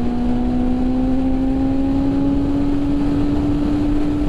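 A 2019 BMW S1000RR motorcycle engine holds a steady, loud, near drone at high revs, with a smooth tonal hum sustained throughout and no separate crackle pops standing out.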